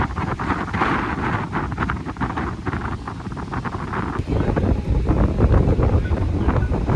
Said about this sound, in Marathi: वारा खूप आहे गाईज बघू शकतो